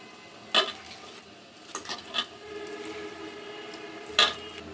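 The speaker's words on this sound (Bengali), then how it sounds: "এখন এগুলা হাতে একটু ভালোভাবে একটু ম্যাশ করে নেব।" Lightly boiled cauliflower is mashed by hand for cauliflower chops, with soft squishing broken by a few sharper clicks and taps against a bowl, close and fairly quiet with no talking.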